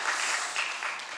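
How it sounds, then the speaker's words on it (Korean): A church congregation at a New Year's Eve service applauds, a dense, steady wash of many hands clapping together at moderate loudness, continuing for the whole moment with no voices on top. "다시 한번 큰 박수로 하나님께 영광 올려주십시다."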